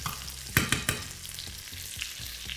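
A large piece of fish frying in foaming butter in a pan, a continuous soft sizzle broken by several clattering knocks of utensil against pan near the start, close and fairly quiet.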